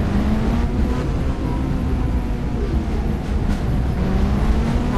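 Train and Kawasaki Ninja motorcycle racing in the game Indian Bike Driving 3D: a loud, steady rumble of rolling train and engine noise fills the whole stretch without a break, and no one talks.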